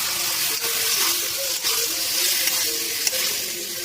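Eggplant and tomato curry sizzles steadily in a pan as a spoon stirs through it, with a continuous close frying hiss and a few soft scrapes along the way.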